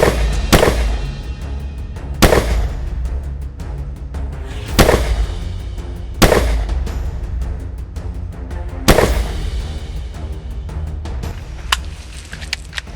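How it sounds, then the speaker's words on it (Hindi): Loud gunshots in a detective drama ring out one at a time at irregular intervals, each a sharp crack over a rumbling background, with smaller pops between them. "पटाखे नहीं गोलियां हैं।"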